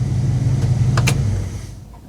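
A 1959 Dodge Coronet's engine rumbles steadily up close with a deep low throb, a brief sharper rev blip in the middle, then the sound eases and fades toward the end.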